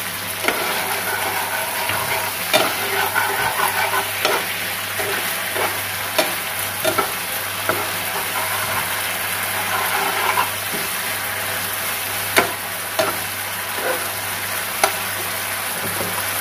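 Lemon garlic chicken fries in a pan with soy sauce and a mayonnaise and yogurt sauce, sizzling evenly throughout while a spoon stirs it, knocking and scraping against the pan at irregular intervals.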